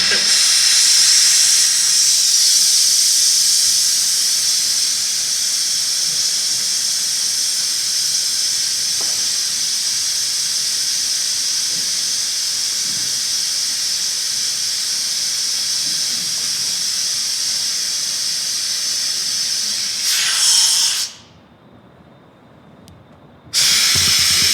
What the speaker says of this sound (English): No, I have to drain pressure, else this thing will launch.